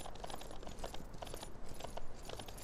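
Horse hooves clip-clop in the video game Myth of Empires, a steady patter of light clopping buried in dense game ambience and noise, with no talk.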